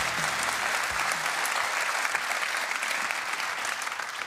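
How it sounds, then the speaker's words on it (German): A German TV studio audience applauds a guest on a comedy talk show, a dense, sustained burst of clapping that continues evenly without pause. "es gab zwei Menschen, die so einen Beifall bekommen haben wie du eben"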